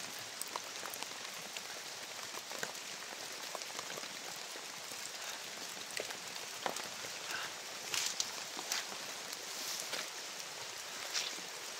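Steady rain pattering on a surface, with scattered drops standing out from a dense, continuous hiss that stays even throughout and carries no voices.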